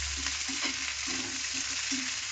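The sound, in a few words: onions frying in a pan for chana dal chutney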